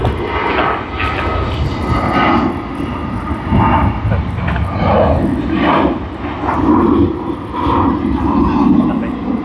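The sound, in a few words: jet airliner taking off at Sydney Airport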